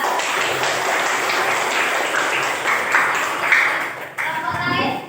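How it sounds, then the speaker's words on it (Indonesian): Classroom applause for a student group, dense steady clapping from many hands throughout, with voices briefly mixed in toward the end. "tepuk tangan untuk kelompok 3"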